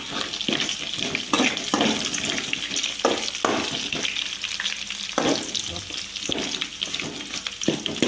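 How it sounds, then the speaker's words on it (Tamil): Cumin and chillies sizzle and crackle in hot oil as they are sautéed for lemon rice, with close, continuous frying and intermittent stirring scrapes. "இப்போ வந்து ஒரு வதக்கணும்."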